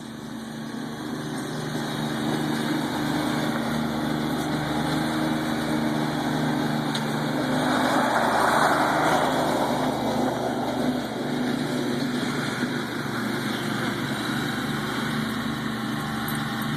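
A zero-turn lawn mower engine runs steadily and loudly throughout, a constant droning hum that swells briefly midway, with no speech.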